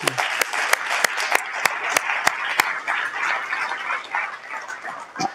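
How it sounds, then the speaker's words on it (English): Audience applause for a team at a brand launch event, a steady round of clapping with sharp individual claps standing out, fairly close and continuing throughout. "a quick round of applause for our team on the athletes' behalf"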